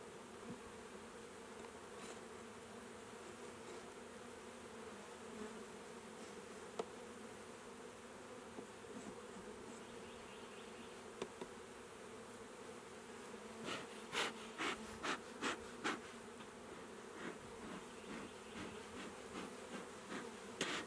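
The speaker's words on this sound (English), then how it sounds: "they're starting to get a little louder" Honeybees in a hive just after being smoked, a soft steady drone of many wings with occasional sharp clicks and knocks from hive frames; no talking.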